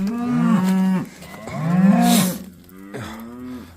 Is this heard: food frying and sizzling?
no